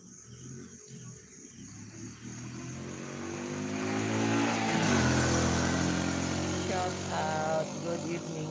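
Heavy trucks pass along a road in the Philippines, a rumbling engine drone that swells gradually to a loud peak midway and then holds before easing slightly, with a pitch shift as one vehicle goes by.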